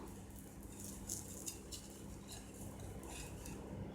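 A crispy dosa turned over on a hot pan, with light metallic scraping and clinks of a spatula against the pan over a steady sizzle, close up and alone.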